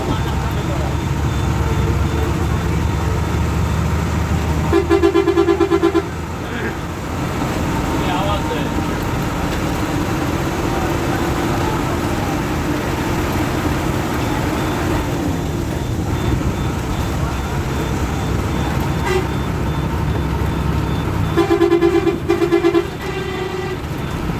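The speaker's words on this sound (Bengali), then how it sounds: "বিশ বছরের বেশি সময় ধরে সার্ভিস প্রদান করে একটি বাসের সাউন্ড কেমন হতে পারে চলুন একটু শুনে আসা যাক" An old Japanese bus runs on a road in Bangladesh, with a steady loud engine and road rumble throughout and bursts of beeping or horn sounds near the start and again toward the end.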